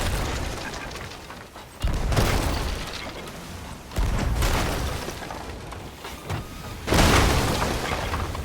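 Cannon fire in a Sea of Thieves pirate ship battle: several loud, booming blasts spaced a few seconds apart over a constant rumble of sea and wind, with no talking.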